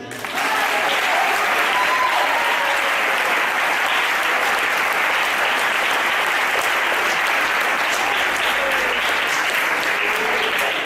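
A church congregation bursts into sustained, dense applause that stays loud and steady throughout, with a few scattered voices mixed into the crowd noise.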